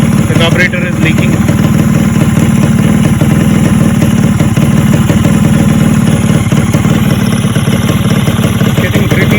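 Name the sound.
Yamaha RXZ motorcycle engine idling on first start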